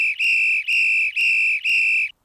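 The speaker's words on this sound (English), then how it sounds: "Whistle commands of 5 or more indicate an emergency." Four loud, sustained shrill whistle blasts on an archery range, each about half a second long with brief gaps, sounding a safety command alone without talk.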